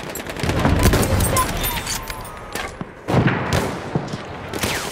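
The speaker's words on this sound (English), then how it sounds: "Machine gun." Bursts of automatic gunfire from a Battlefield 1 match, dense and rattling with scattered louder shots and a brief lull midway, against a busy battlefield backdrop.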